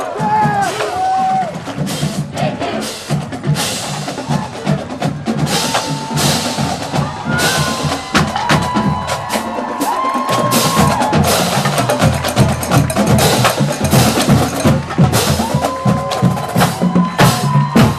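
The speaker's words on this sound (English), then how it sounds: "members of this marching band as far as the eye can see" A marching band of nearly 200 members plays in a holiday bowl parade, with sustained brass chords, steady drum cadence and bright cymbal accents carrying loud and close throughout, while the crowd stays faint underneath.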